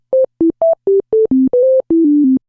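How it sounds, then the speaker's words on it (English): Pure sine-wave oscillator tones from a Reaktor 6 software synthesizer play as a sequence of short, clean beeps at changing pitches, with the last few held longer. The tones are loud, clear and alone. "There's our sine wave oscillator."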